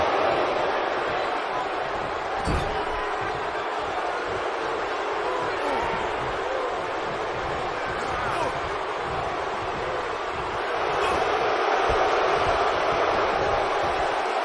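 A wrestling arena crowd cheering steadily at a fatal four-way tag-team championship match, a dense, constant roar with a few sharp spikes rising above it.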